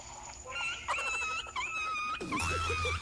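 A dog whining and moaning after being pinched, a series of high wavering whimpers and drawn-out wails close to the listener, with a low hum beneath and no talk.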